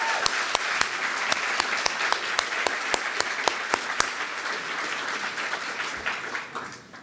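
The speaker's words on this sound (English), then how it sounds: "Clap that up." Graduation ceremony audience at a charter school applauds steadily for several seconds, dense clapping with sharp rhythmic claps standing out early, then fading toward the end.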